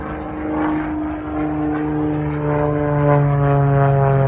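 Propeller aircraft flying a half Cuban 8 aerobatic maneuver at a WWII weekend airshow at Reading Airport, a loud sustained engine drone whose pitch slowly shifts and rises as the plane moves through the figure.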